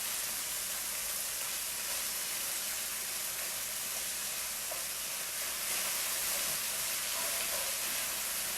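Ground beef browning in a pan for beef stroganoff, a steady broadband sizzle and hiss that holds close and even throughout, with no talk over it.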